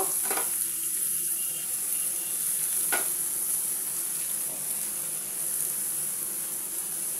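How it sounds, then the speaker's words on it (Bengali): Fenugreek greens are stirred in a pan of hot oil along with fried eggplant and potato, producing a steady sizzle broken by a few spatula scrapes and clinks. "শাকগুলো দিয়ে আমি একটু এবার নেড়ে নেব বন্ধুরা"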